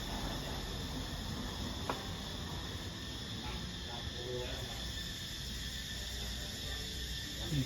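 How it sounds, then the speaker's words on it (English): A dense, continuous high-pitched buzz of cicadas fills the air in Koh Lanta Old Town, Thailand, steady and shrill, with faint low background noise beneath. "You can hear these cicadas going crazy out here. They're so loud."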